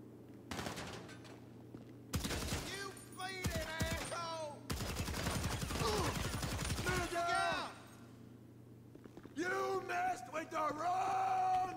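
Heavy automatic gunfire from a powerful weapon in GTA 5 Online, during a casino heist, comes in loud bursts mixed with yelling and shouted voices, and talk runs through most of it.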